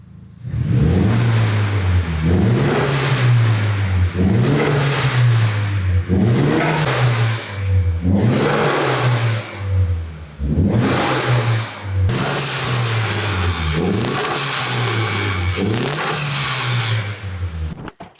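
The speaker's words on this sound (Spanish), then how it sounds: "vamos a arrancar el coche y lo escucháis." A Nissan 200SX S13 with a new exhaust and racing intake is revved hard, about eight loud blips rising and falling in a regular rhythm with a deep, raspy exhaust note, close and alone.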